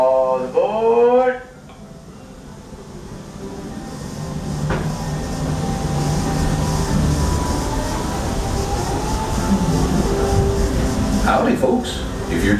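Walt Disney World Railroad steam train pulling forward from the station, a steady low rumble and rolling clatter that builds and holds, with a brief announcer's voice at the start and passengers' voices later.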